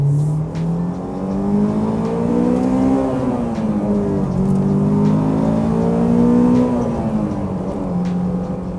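A Honda S2000 engine with Mugen parts hums steadily from inside the cabin, revving up and easing off in smooth waves as the car cruises along.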